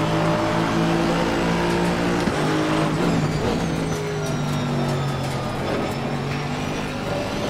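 In the Assetto Corsa Competizione racing game, an Aston Martin GT race car at Oulton Park roars steadily at close range, its engine note climbing and dropping through gear changes and throttle lifts with no talk.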